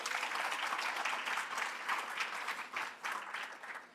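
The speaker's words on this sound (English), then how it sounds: "Please clap it up for Sahara Walker." An audience at a school district sports awards ceremony claps for an honoree, a dense, steady round of applause of moderate loudness that tapers slightly toward the end, with no speech over it.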